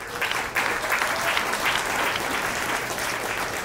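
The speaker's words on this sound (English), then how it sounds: "Please applaud and cheer them." Lively audience applause as presenters enter an arena at a demo fair, dense clapping swelling after a brief dip and holding steady, with no clear cheering voices.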